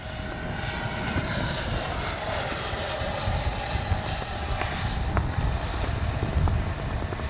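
A Freewing 90mm F-22 Raptor V2 RC jet flies on a windy day with its gear retracted, its ducted-fan engine giving a loud, continuous whine that holds steady throughout, with no voices.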